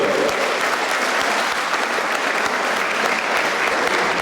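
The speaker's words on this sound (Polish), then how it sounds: "prosimy o brawa gwiazda dzisiejszego wieczoru" A recital audience applauds a singer as he takes the stage, a loud, even wash of clapping that holds steady throughout.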